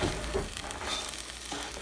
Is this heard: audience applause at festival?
no